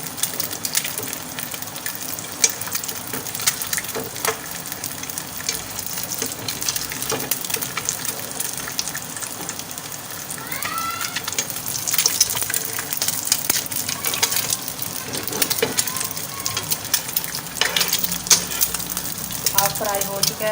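An egg half-frying in a pan of oil, a steady soft crackling sizzle with occasional sharper pops, while a person talks over it now and then.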